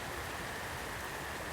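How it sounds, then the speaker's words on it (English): Rain from Tropical Storm Hilary pours steadily onto a California garden with banana trees, a soft, even hiss of falling water, continuous and fairly quiet with no voices. "dumping a decent amount of rain today"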